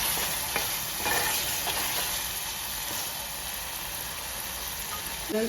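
Fish curry sizzles and fries in a pan while being stirred, giving a steady bright hiss with occasional scraping clinks of the spoon, moderately loud and close with no talking.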